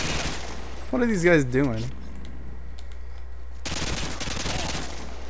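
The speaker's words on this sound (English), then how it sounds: "I'm gonna use my AA-12 because I'm a boss." Rapid, loud bursts of AA-12 automatic shotgun fire in Modern Warfare 2 rattle in short clusters, first under a man's spoken question and then alone after a pause.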